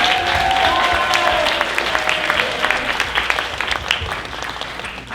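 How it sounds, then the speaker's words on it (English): Theatre audience applauding for the student actors of a school stage production, a dense steady wash of clapping that gradually thins and fades over several seconds. "Can we get another round of applause for our wonderful actors?"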